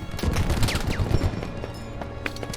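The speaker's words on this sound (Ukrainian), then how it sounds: "Хто це стріляє, боже?" Loud bursts of automatic rifle fire rattle in a Squad match on the Al-Basrah map, a cluster of close shots followed by sparser, more distant reports.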